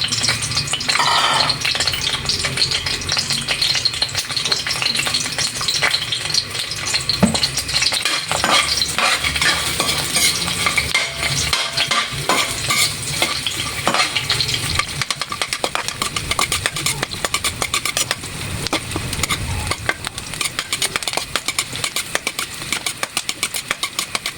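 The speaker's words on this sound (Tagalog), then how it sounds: "Kaya painitin natin yung mantika bago natin igisa ang ating sibuyas." Onions sauté in hot cooking oil in a pan, a constant dense sizzle with scraping from stirring throughout, loud and close, with a low rumble underneath for much of the time.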